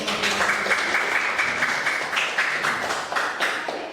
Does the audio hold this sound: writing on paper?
no